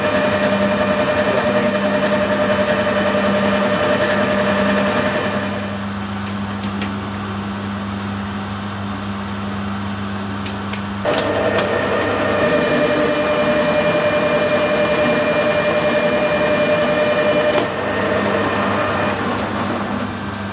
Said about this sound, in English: I'm going to machine some aluminium.